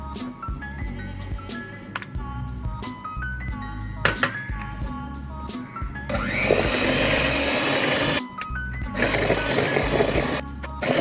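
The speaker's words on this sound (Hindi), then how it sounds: "अब हम इसमें एक एक करके अंडा डालते रहेंगे और बीट करते रहेंगे।" An electric hand beater whirs steadily through cake batter as eggs are added one at a time for homemade bakery-style cake rusk, with faint clinks of the bowl, a brief pause, then a louder, harsher burst of beating.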